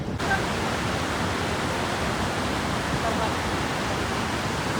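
A waterfall near Belgaum, flowing lower than usual after a weak rainy season, gives a steady, dense roar of rushing water at close range, unbroken and even for the whole stretch, with no voices over it.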